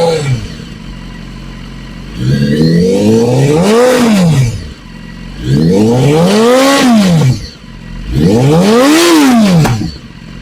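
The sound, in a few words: BMW HP4 motorcycle with Akrapovic exhaust revving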